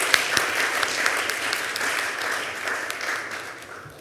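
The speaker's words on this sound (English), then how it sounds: "Let's give that a round of applause." An audience at a youth entrepreneurship competition claps in steady, sustained applause throughout, dense and even.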